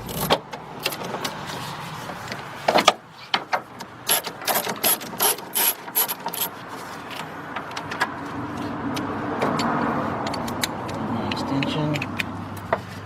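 Ratchet clicking in short bursts as bolts come out of the water pump on a 2005 Chevy Express G2500 with the 6.0 engine, close and fairly loud, with longer runs of rapid clicks and low shop noise between.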